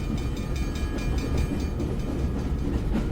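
Train running in the video game GRUNND, a steady rumbling rail roll with a faint rhythmic clatter, continuous and close with no voices.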